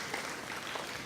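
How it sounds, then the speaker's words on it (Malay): Audience applause at a geospatial information seminar, a steady dense clatter of many hands clapping in a hall, continuous and moderately loud with no voices. "Berikan tepukan"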